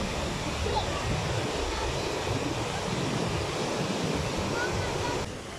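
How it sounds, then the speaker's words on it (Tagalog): Loud, steady roar of strong rushing river water close by at Bustos Dam after a typhoon, a broad unbroken wash of noise with some wind buffeting, continuing without a pause. "Hindi pala mataas yung tubig, malakas yung agos."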